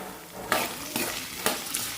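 Potatoes with salt are stirred in a pan for sabudana khichdi, giving a few scraping, clinking strokes of a spoon against the pan over a steady soft sizzle.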